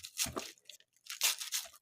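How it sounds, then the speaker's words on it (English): A knife slices soft cabbage into big pieces, giving two quick bursts of crisp crunching and tearing, close and quiet, with a short pause between them. "I'm just cutting kind of big sizes, because the cabbage is very soft"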